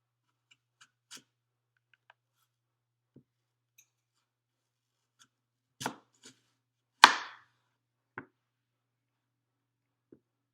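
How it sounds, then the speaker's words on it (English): A knife cutting an apple in half and then into slices about a quarter inch thick, heard as a few sparse, sharp clicks and chops on a board, with one louder crunchy cut near the end of a quiet stretch. "cut your apple in half and then slice it from there"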